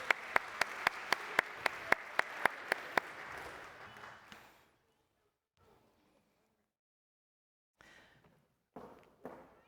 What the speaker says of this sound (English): why don't we give them a round of applause for their good work today?